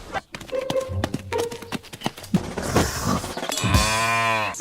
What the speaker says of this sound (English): This cow is moving towards Elsa's house.